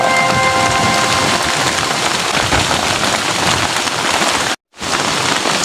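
Heavy rain falls close by in a dense, steady rush on surfaces, loud and continuous, with a brief cutout near the end.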